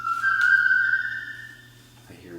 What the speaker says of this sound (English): I hear whistling.